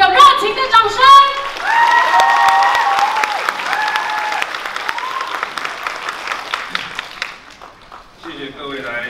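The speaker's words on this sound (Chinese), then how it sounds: "再 给我们所有现场创党党员及我们的党主席一个热情的掌声" Warm applause from the audience at a Taiwan People's Party founding assembly, steady and dense clapping with a few cheers. It holds for about seven seconds and fades, and a voice speaks over the clapping at the start.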